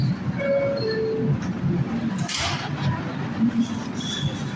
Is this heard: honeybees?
no